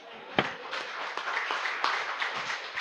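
Church congregation clapping together in a burst of applause, dense and steady throughout with a sharp opening clap, moderately loud and without talk.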